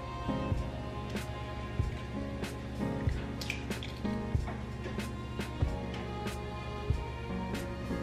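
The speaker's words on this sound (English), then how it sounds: "I'm going to crack my egg and take the mixture and pour it in there and keep the egg yolk in the egg" Egg white slips from a cracked egg shell into a bowl in soft, wet drips and small splats, spaced irregularly at close range against a faint background hum.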